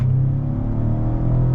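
A 2021 Lincoln Navigator luxury SUV with a twin-turbo V6 accelerates, heard from inside the cabin as a loud, steady low engine drone and rumble without talking.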